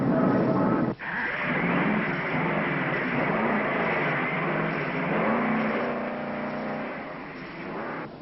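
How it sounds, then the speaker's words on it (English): At the 1953 Formula 1 race, on a hot, windy day, the pace car rolls out amid a steady, muffled engine roar and crowd wash, heard as old band-limited film sound. "The pace car rolls out."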